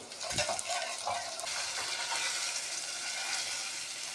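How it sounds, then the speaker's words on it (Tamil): Crushed garlic, black pepper, cumin and coriander sauté in a pan for rasam, giving a steady close sizzle with a few clinks and scrapes of stirring near the start. "அடுத்து இடித்து வைத்துள்ள பூண்டு, நல்ல மிளகு, ஜீரகம், கொத்தமல்லி இவைகளை போட்டு வதக்கவும்."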